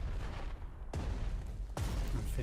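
Heavy artillery fire in the strategy game Panzer Strategy, with two loud booming blasts at roughly one-second intervals over a dense, continuous bed of battle noise.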